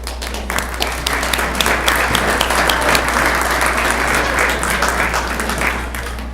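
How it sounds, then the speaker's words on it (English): Loud, sustained applause from a school board meeting audience for a junior varsity cheerleading team, many hands clapping densely over a low, steady electrical hum. "a round of applause for our parents for our junior varsity cheerleading team"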